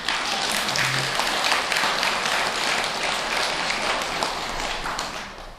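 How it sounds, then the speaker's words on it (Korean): An audience at a Buddhist temple service claps for the temple choir, with brisk, dense applause that holds steady throughout. "박수 한번 보내드리세요."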